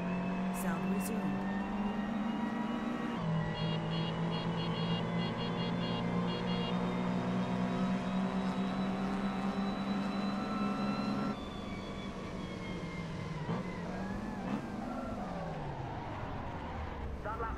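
Austin Mini Cooper S racing around Brands Hatch in Assetto Corsa, a steady loud engine drone with tonal revving that shifts pitch through gear changes and corners, continuous and close throughout.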